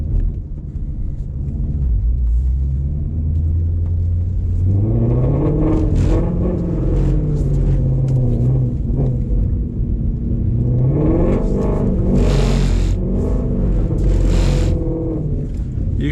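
Ford Shelby GT350 engine held in second gear while driving in the rain, a loud continuous low rumble with rising revs and a rough, shaking drone, with brief whooshing bursts near the end.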